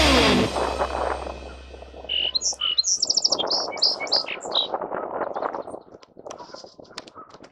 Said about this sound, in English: We heard birds going crazy across the road.